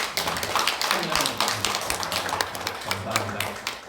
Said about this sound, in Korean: 우리 박수로서 한번